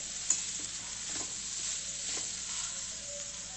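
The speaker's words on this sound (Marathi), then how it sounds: "यात मी घालते मोड आलेली मटकी। आता याला चांगलं मिक्स करून घेणार आहे।" Sprouted moth beans are stirred in a frying pan for a Maharashtrian usal, giving a steady soft sizzle with light scraping stirs throughout, close and moderately quiet, with no talking.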